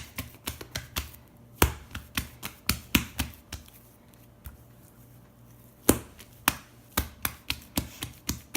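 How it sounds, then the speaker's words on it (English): Whole wheat bread dough is dropped onto a kitchen counter and patted by hand, giving a run of sharp, close thuds and slaps in uneven bursts with a short quiet gap between them. "I'm going to drop it on the counter a couple times and kind of pat it to make sure I'm getting the shape I want."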